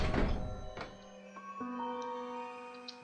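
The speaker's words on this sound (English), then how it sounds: "Door won't budge." A stuck restroom door in the Blight Dream video game gives one dull thunk near the start, followed by a low steady hum with faint ticks, no voices.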